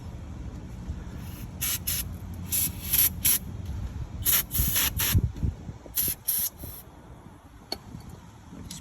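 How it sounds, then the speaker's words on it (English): Brake clips on a 2019 Hyundai Sonata sprayed down in a series of short, close aerosol hisses in quick bursts, some doubled, over a low rubbing background. "I like to spray down the clips right here."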